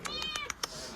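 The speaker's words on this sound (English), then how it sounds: "See, look at the kitty." Cats at an animal shelter meow in a quick run of five short, high calls, fairly faint, with a person talking softly nearby.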